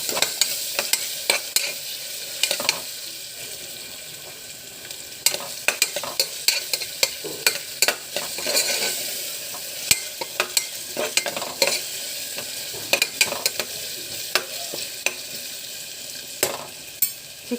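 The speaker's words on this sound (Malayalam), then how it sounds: "ഇളക്കി കൊടുക്കാം" A spoon or ladle stirs Kerala-style duck curry in a hot pan: steady scraping strokes repeat close up over a soft, continuous sizzle, with no talk.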